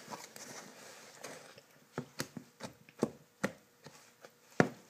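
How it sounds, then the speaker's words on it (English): Duncan Hines fudgy walnut brownie batter stirred in a bowl, giving a series of sharp, irregular clicking and tapping knocks of the utensil against the bowl, close and fairly quiet, growing louder toward the end. "I'm just going through it again, make sure no powder clumps are"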